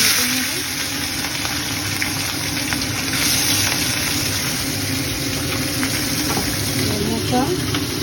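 Small mourola fish fry in a pan with a steady, dense sizzle that holds evenly throughout, with a faint low hum of background noise underneath.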